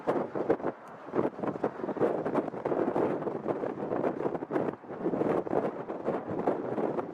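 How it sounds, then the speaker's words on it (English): Harsh wind buffets the microphone at London Heathrow airport, a loud continuous gusting roar that swells and dips throughout with no break. "this wind is harsh"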